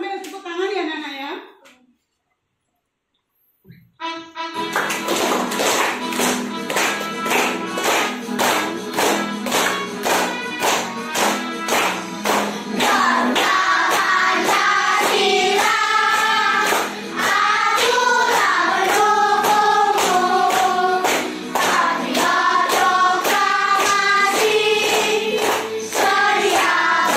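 Classroom of children clapping hands in regular rhythmic beats while singing Garuda Pancasila together, after a brief pause at the start; the claps sit under loud group singing throughout.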